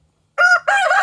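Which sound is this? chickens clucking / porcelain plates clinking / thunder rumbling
chickens clucking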